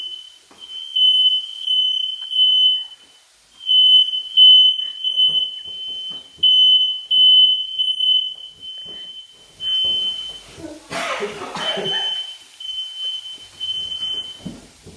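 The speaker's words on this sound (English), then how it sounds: "That would be the fire alarm going off." A smoke alarm shrills in a steady, high repeating beep through most of the stretch, cutting out briefly around a burst of clattering handling noise while steak au poivre cooks in a home kitchen.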